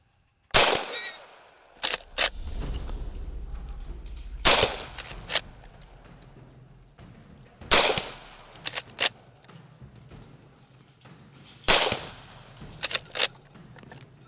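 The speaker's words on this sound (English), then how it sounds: "it didn't take me very long to rip through all 5 rounds on this" Loud, sharp gunshots from a .45 Long Colt Smith & Wesson 1854 fired at hogs outdoors, a rapid string of cracks spaced irregularly across the clip, each with a short ringing tail and no voices.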